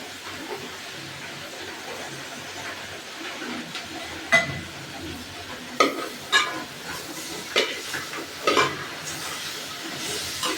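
Ground tomato paste stirred into frying chicken curry in a pan, Palakkad style, with a steady low sizzle and several distinct spoon scrapes and clinks against the pot spaced across the stretch, no talking.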